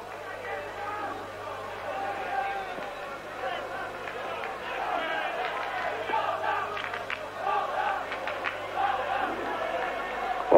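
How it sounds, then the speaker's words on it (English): A football crowd at a 1983 European Cup tie between Standard Liège and Dundee United in Liège, roaring and shouting in a steady, dense mass of voices for about ten seconds, building slightly toward the end. "The crowd, I'm told, somebody's translating for me, are shouting for the money back."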